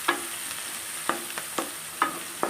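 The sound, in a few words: onions frying in oil with turmeric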